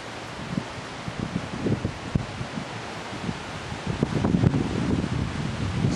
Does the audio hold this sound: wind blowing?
yes